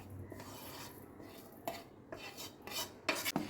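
Gram flour batter with turmeric, ginger powder, cumin, chili powder, black cumin, salt and rice flour is stirred in a bowl for flower pakoras, soft scraping and clinking of utensil against the bowl in short bursts, quiet and close.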